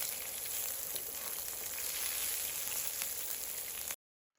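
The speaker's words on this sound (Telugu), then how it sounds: "యాడ్ చేసిన తర్వాత ఇదన్నీ ఒకసారి మనం బాగా ఫ్రై చేసుకోవాలి." Green chillies fry in a pan, giving a steady, close crackling sizzle that runs unbroken for about four seconds before stopping abruptly.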